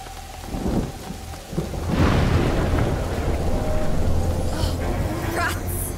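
Thunderstorm in the video game A Plague Tale: Innocence, with steady heavy rain and a loud thunder rumble swelling after a sharp crack, continuing under a brief spoken voice.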